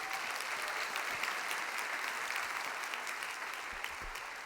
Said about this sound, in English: give yourself a round of applause for showing up and showing out